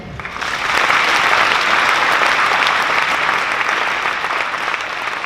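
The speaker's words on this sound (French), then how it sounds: "merci de les applaudir" A festival audience breaks into sustained applause for the volunteers, the clapping swelling within the first second into a dense, even wash that holds steady to the end.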